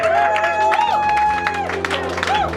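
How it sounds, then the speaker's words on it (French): A church congregation at a French-language service in Woolwich, London, claps and cheers steadily in acclamation of Jesus, a dense crowd roar with music beneath it and no break across the clip. "Acclamons bien fort Jésus"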